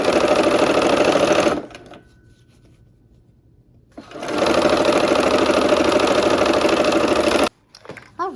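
A sewing machine runs steadily for about a second and a half while stitching the last seam in each row of a barn quilt sampler block, then stops. After a pause it runs again, loud and continuous, for several seconds.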